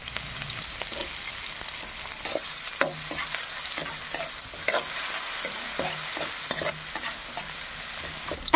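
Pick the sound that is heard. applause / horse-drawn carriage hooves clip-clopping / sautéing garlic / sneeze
sautéing garlic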